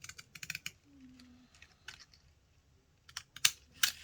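Paper being cut with scissors while crafting faux postage stamps, giving crisp, close snips in short bursts at the start and again near the end, with quiet stretches between.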